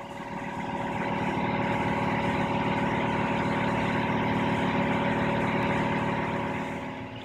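An air compressor fitted with a Solberg intake filter runs steadily, a loud continuous mechanical drone with a strong hum that holds level before tapering off at the end, with no talking.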